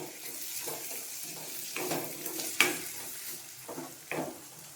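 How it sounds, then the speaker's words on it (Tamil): Onions sautéing in a pan for tomato thokku, a steady soft sizzle with occasional scrapes and clinks of a spoon against the pan, close and fairly quiet with no voices. "வெங்காயம் கொஞ்சம் வதங்கட்டும்"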